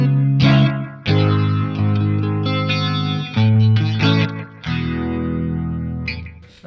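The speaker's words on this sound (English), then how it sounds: "If we turn the rate down to about 9 o'clock, it sounds something like this." An overdriven electric guitar plays chords through an EHX Stereo Electric Mistress chorus, rate turned down to 9 o'clock, giving a slow, gentle sweep; several strums ring out loud and close with no voices.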